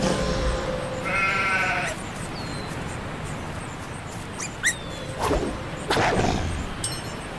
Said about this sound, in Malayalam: ചെമ്മരിയാട്.